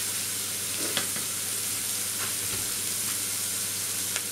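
Onions and mushrooms sizzle steadily in a frying pan for a cheese omelette, a loud, even hiss with a few faint clicks of stirring, close and with no talk over it.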